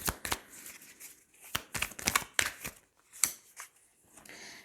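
Tarot cards handled on a table, a series of crisp shuffling and flicking bursts in an uneven rhythm, close and fairly soft, with no talking.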